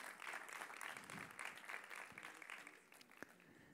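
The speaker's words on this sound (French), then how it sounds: "Sous vos applaudissements, s'il vous plaît." An audience at a women's summit award ceremony applauds a trophy winner, a faint, dense patter of many hands clapping steadily for about four seconds, tapering slightly at the end.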